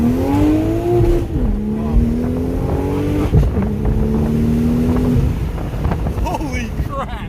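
Tuned 2001 Porsche 911 Turbo with an aftermarket exhaust roaring from the cabin as it accelerates hard past about 3,000 RPM, pitch climbing in surges with gear shifts, wind noise rushing around it and a voice speaking over it.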